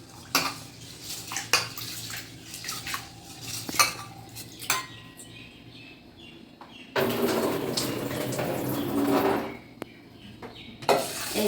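Rice being washed in a bowl of water for basanti pulao, with clinking and scraping of grains and bowl, then a stretch of running and swishing water, close up.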